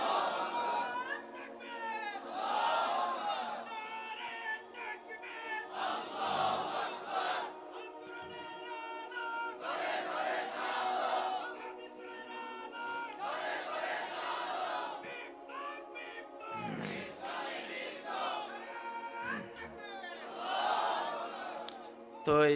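Large crowd at a Bangla religious sermon gathering loudly chanting in unison in answer to a takbir call, repeated waves of massed voices rising and falling for over twenty seconds.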